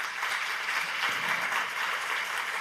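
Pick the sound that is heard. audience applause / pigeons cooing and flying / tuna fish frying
audience applause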